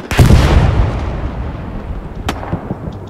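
A heavy artillery blast in the World War II shooter Hell Let Loose opens with a loud, close boom and long rumbling decay, then a sharper distant crack follows near the end.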